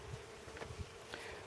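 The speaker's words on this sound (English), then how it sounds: "Most of these are honeybees." Faint, steady buzzing of honeybees at a distance in a haskap orchard, a soft insect hum over quiet outdoor background.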